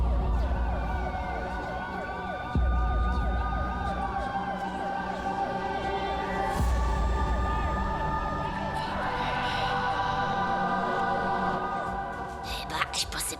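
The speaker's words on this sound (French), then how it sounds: "Et pourquoi il y a une ambulance?" Ambulance siren wailing in a steady rising-and-falling sweep through an emergency street scene, fairly close and continuous, layered with background traffic and a few thumps and clatters.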